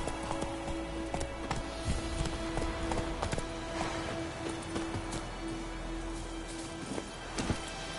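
Horse hooves clip-clop at a gallop in the video game Witcher 3, a steady rhythmic pounding that carries through the whole stretch, loud and close over a low background hum.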